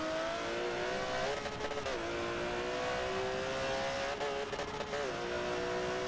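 Racing cars in the Forza Motorsport 7 video game, including a Subaru BRZ, with a steady engine drone that rises and falls in pitch as gears shift, heard continuously at moderate loudness.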